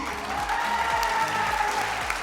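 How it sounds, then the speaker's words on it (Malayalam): Children and attendees clap together at a summer camp class on clay pottery making, a steady patter of many hands held at even volume, with a faint tonal hum running underneath. "കയ്യടി കൊടുക്ക എല്ലാരും കയ്യടി കൊടുക്ക്"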